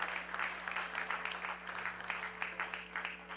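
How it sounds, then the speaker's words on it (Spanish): A church congregation claps together in steady, rhythmic applause, quiet and somewhat distant, with a low hum underneath throughout. "Dale ese aplauso al Rey de Reyes y Señor de Señores."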